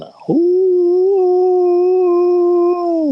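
A human voice imitates a long, drawn-out howl heard in Florida woods: one loud, sustained tone that rises briefly, then holds steady for nearly three seconds before dipping at the end.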